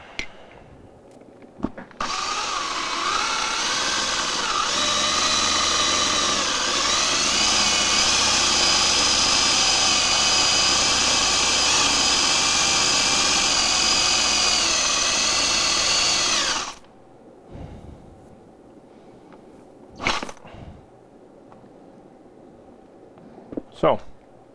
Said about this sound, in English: one nice thing about drilling a piece of metal that's right next to a magnet is the magnet collects all of the chips for you.